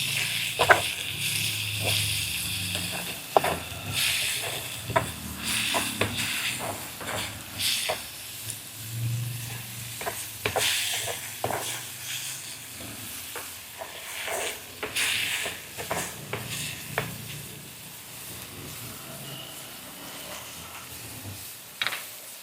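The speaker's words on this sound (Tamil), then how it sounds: "இப்போ எல்லாத்தையும் கிளறிடுவோம்" Tomato, onion and green chili frying in a pan while being stirred, a soft continuous sizzle broken by repeated scraping strokes of the spoon, fairly quiet and close.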